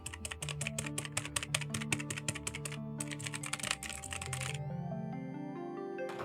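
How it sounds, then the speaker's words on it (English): Rapid keystrokes clatter on an old computer keyboard, a dense run of clicks that stops midway, followed by a quieter stretch with only a few faint taps. "So here's my old keyboard."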